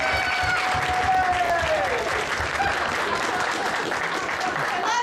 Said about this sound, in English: And a special round of applause for Lisa.